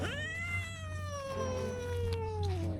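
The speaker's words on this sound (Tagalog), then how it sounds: "Palaway din pala yung mga babaeng pusa." A female cat lets out one long, drawn-out meow that slowly falls in pitch, heard close and clear against a quiet background.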